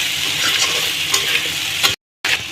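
Potatoes and meat in a pan are stirred, with continuous sizzling frying and scraping strokes of a spatula; the sound cuts out briefly before resuming.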